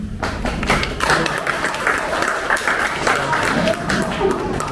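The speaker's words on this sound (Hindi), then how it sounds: "तालियां बजाइए" An audience claps through the whole stretch at an anniversary function, a dense, steady patter of many hands with some nearer thumps and taps mixed in.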